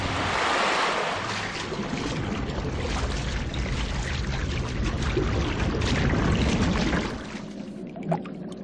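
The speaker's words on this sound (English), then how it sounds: "And then unleash the water!" Water released in a video game (Legacy of Time, a Journeyman Project adventure) surges and rushes loudly and continuously, a broad surf-like roar that holds for about seven seconds before easing off.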